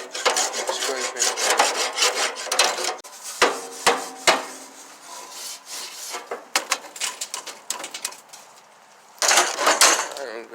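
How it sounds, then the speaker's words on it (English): Metal tool scraping the fire dampers of an old grill, with repeated rough, grating strokes in uneven bursts, close and loud, and a short pause near the end before a final run of scraping. "Scraping."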